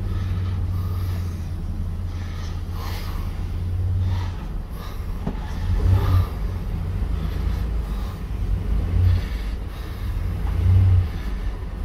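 A repaired Tuff Truck engine running steadily while driving slowly, a loud, constant low rumble that swells a little at times, with no voices.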